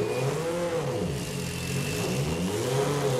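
A four-cylinder car engine roars under load on a dyno, its pitch sweeping up and down in repeated rising revs, loud and close with a steady whine on top.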